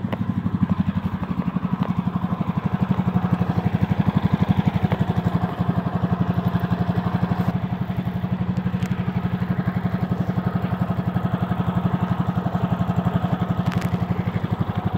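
A small engine on a lawn mower converted into a go-kart runs steadily at close range, with a constant low throb and fast rhythmic firing that holds for about fifteen seconds, no voices heard.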